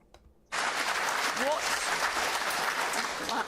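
Audience applause bursts in suddenly after a brief quiet moment and holds steady and loud as a dense, continuous wash of clapping, with a faint voice briefly audible beneath it.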